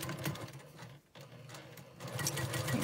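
A sewing machine runs close and steady, stitching quilt block seams with a brief pause near the middle before whirring on.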